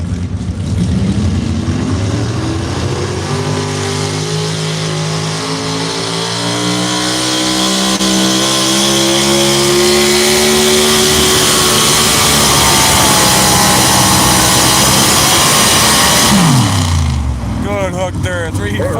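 A 2003 Ford truck strains under load during a truck pull at Chamber Acres in Rockwell, Iowa, its engine roaring loud and near with a long rising, wavering rev that drops off at the end, while an announcer talks over it.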